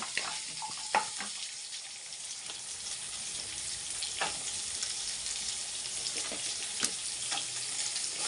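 Urad dal and onion frying in a pan for tomato chutney, a soft, steady crackling sizzle with occasional light clicks of a spoon against the pan.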